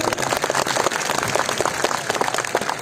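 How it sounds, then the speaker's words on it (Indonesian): An audience at an outdoor religious gathering gives a regent a dense, continuous round of applause that stays steady throughout. "Tepuk tangan untuk Pak Giri"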